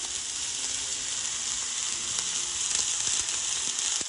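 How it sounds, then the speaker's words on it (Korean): Steady, close sizzling of food frying in a seasoned Skeppshult cast-iron pan, a continuous bright crackle with occasional small pops, no voices. "소리 지지네, 소리."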